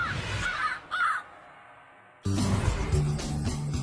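Crows cawing outdoors: a few loud, harsh caws close by over a rough background, which then gives way to a busier, noisier stretch.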